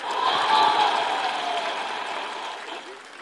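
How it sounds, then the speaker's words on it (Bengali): Audience members at a speech event break into loud, dense clapping that peaks at once and then gradually thins and fades over a few seconds. "আমাদের ক্ষোভের জন্য একটা জোরে হাততালি"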